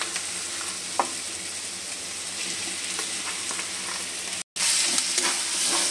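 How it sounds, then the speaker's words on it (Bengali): Fish and mashed boiled potato stir-fried in a pan make a continuous close sizzle with occasional spatula scrapes, briefly cut off before resuming hotter and brighter. "মাছ আর আলু সিদ্ধ ভালোভাবে একটু মিশিয়ে নিচ্ছি"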